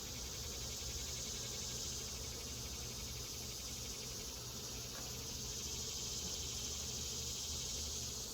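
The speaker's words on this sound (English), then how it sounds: "when there's this many bees in the hive" Honey bees from a crowded hive during a swarm-queen inspection make a dense, steady buzz that fills the whole clip at a constant, close level, with no speech.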